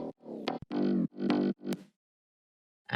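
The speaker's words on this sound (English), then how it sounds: "With the R-bass, it sounds fat." A progressive house bass with an added R-bass layer sounding fat and full, playing four short loud notes with gaps, then a silence before another note begins at the very end.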